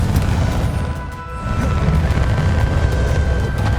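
Bombarda and Confringo spell explosions in Hogwarts Legacy, loud and close, a continuous heavy roar of booming blasts and crashing impacts with a brief dip before swelling again, steady rumbling to the end.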